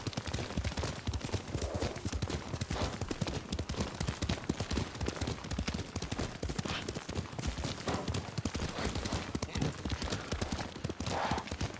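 Horse hooves clip-clopping at a steady riding pace in the Ghost of Tsushima video game, dense rhythmic beats close by and continuous throughout, with some faint background voice.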